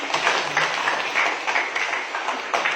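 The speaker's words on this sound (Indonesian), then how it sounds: "tepuk tangan dong" Audience applause at an Indonesian MPR Four Pillars outreach event with a DPR member, a steady wash of clapping from a crowd throughout, moderately loud with no talk over it.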